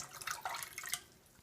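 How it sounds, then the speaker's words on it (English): Tap water pours steadily into a cooking pot for boiling with baking soda, a close, bright splashing rush that tapers off after about a second. "we're going to put like 10 cups of water in here"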